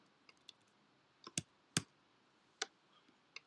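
Quiet, sparse clicks of keys being typed on a computer keyboard, a handful of separate taps over about three seconds, some soft and a few sharper, in a silent room.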